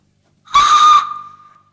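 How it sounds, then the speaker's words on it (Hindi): A single sharp, loud blast on a whistle, about half a second long, with a short fading tail, heard alone. "सीटी बजा दो, मैंने गाड़ी खेलना है"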